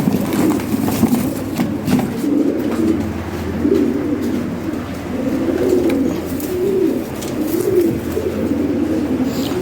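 Several pigeons coo continuously at a loft in Dhaka, low rolling calls overlapping in steady rhythm throughout, fairly close, with no talking.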